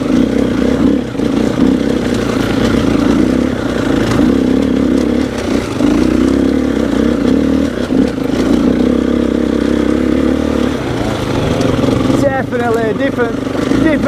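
An enduro motorcycle engine drones loudly and steadily while riding a loose offroad trail, with rattling clatter over the terrain and a voice talking over the engine.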